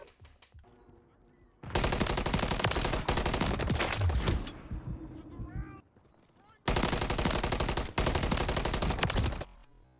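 Modern Warfare 3 video game gunfight, with two long loud bursts of rapid automatic gunfire separated by a short lull of quieter game sounds.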